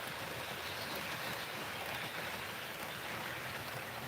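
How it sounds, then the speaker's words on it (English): A steady, soft rushing rumble of a model train rolling along its track, continuous and even throughout with no voices. "We'll let this train pass about 2 more times"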